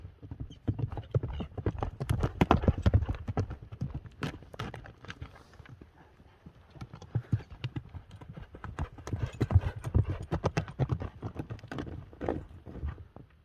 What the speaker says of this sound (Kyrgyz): Кыргыз жылкысы.